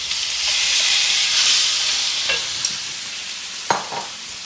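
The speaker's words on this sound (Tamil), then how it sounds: "அப்புறம் இந்த உருளைக்கிழங்கு சேர்த்துக்கலாங்க" Potatoes with turmeric frying for an aloo sabji: a bright, loud sizzle in a pan, with occasional sharp spatula knocks and scrapes toward the end.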